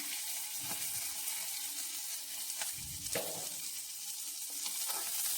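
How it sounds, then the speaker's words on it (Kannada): Cumin, mustard seeds and chillies fry in hot oil with a soft, continuous sizzle, broken by a few light pops and scrapes, heard close and without talk. "ಅದನ್ನು ನೀಟಾಗಿ ಸ್ವಲ್ಪ ಫ್ರೈ ಮಾಡ್ಕೊಳ್ತೀನಿ."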